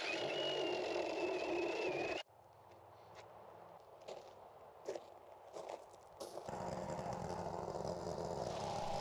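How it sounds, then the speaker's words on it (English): A saw cuts a 45-degree bevel into the ends of wooden skid rails, with a loud, steady motor roar that drops away partway through, leaving quieter scraping and knocks before the roar returns. "Next, I cut a 45-degree bevel on the ends of the skid rails"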